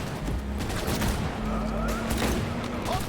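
Dense, continuous gunfire rattles through a Cyberpunk 2077 firefight during a vehicle chase, as a steady wash of overlapping shots with a faint voice underneath.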